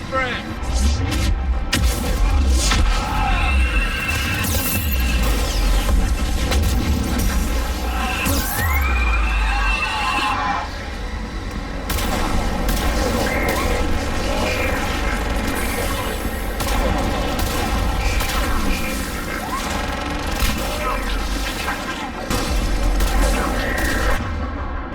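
Missile explosions and gunfire from a fighter assault on Thessia in Mass Effect 3 boom and rattle continuously over a loud, dense battle din with deep rumble and steady hum, game voices speaking throughout.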